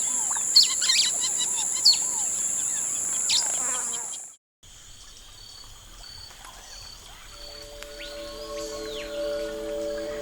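Birds call and chirp in Colombian habitat, with sharp repeated chirps and whistles over a steady insect buzz, a brief drop to near silence, then continued bird calls and tonal whistles at moderate distance.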